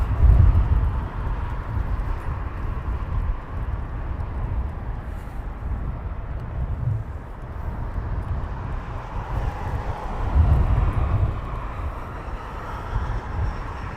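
An Iberia airliner departs Heathrow Airport with a distant, broad roar that swells and fades in waves, heard alone without talk.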